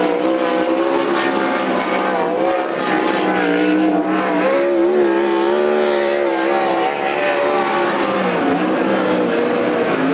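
A winged sprint car on a qualifying lap at Coos Bay Speedway during a Western Sprint Tour event, its engine screaming loudly and steadily with rising and falling pitch as it circles the track, with no talk over it.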